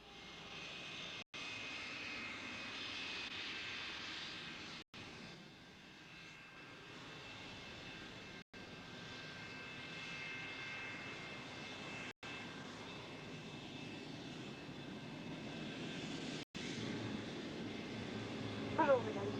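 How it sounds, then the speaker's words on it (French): A Douglas DC-9-32 airliner's number 1 jet engine spools up, a steady faint whine and rumble heard from inside the aircraft, interrupted by brief dropouts, with no speech over it. "Starting engine number 1."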